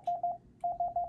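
A clean, steady CW tone sends the word "is" in Morse code: two short dits, a brief gap, then three more dits, each crisp and close with faint hiss beneath.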